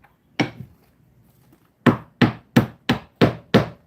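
Sharp hammer blows knock off the top cap of a spinning reel: one strike, then a pause, then six loud evenly spaced thwacks in quick succession, close by with no talking.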